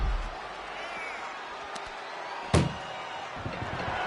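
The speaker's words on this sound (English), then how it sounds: "Doing their best just to shut that first door." A single sharp slam of an ambulance door shutting cuts through a murmuring crowd background.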